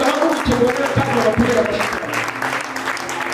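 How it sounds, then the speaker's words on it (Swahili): Church audience clapping for a guest, dense applause from a crowd indoors with a voice speaking over it. "Kuna ule huyu Haruya wapigie makofi mazuri sana."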